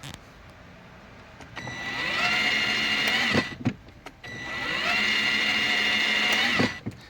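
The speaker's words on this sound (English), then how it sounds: "So I've replaced the motor and I put everything back, and now let's test it." A toy Mercedes Unimog with a newly replaced electric motor whirs with a high, buzzing whine in two separate runs, each lasting a little over a second to two seconds, with clicks and handling noises between them.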